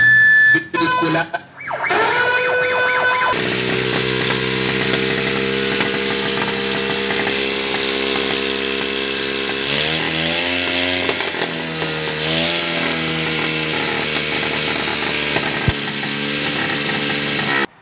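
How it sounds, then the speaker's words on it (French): A homemade helicopter's small engine sputters to life after some clanking, then settles into a loud, steady buzzing drone that wavers slightly in pitch as it keeps running. "j'avais juste procédé au démarrage du moteur"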